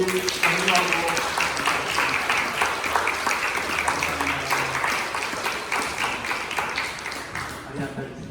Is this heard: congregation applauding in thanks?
yes